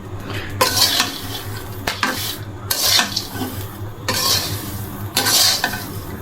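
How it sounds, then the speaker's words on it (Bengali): Popcorn frying in a pan is stirred in four rough scraping bursts of metal clatter over a low, steady sizzle, close and fairly loud, with no voices. "এই যে এখানে পপকর্ন ভাজা হয়ে গেছে,"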